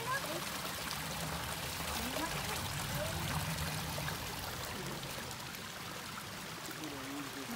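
A river flows through the mountains of Guatemala with a soft, continuous trickling and gurgling, fairly quiet and steady, while people talk faintly over it.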